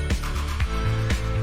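A 19mm ratchet socket tightening a bolt on a 350Z/G35 steering angle kit: a few quick, close clicking ratchet strokes in a short burst, spaced roughly half a second apart.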